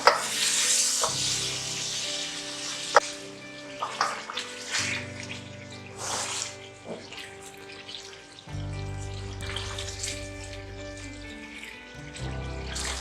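Masala frying for murgh cholay sizzles and crackles in a hot pan, with scattered clinks of a utensil against metal and quiet background music, no talking.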